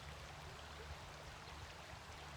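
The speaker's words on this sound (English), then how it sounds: "Listen to the sound of the river" A river flowing steadily outdoors, a soft continuous rush of water, faint and even throughout with no voices.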